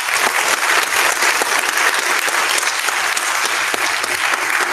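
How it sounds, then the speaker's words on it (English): Loud, continuous applause at a school board of education meeting, many hands clapping close and steady throughout. "Just give them another hand and applause"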